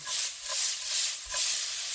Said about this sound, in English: And let's go ahead and saute that up.